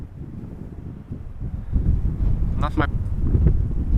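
Gusting wind buffets the microphone outdoors at Amsterdam Schiphol Airport, a steady low rumble that strengthens midway, with a brief voice and a faint higher whine from passing traffic or aircraft.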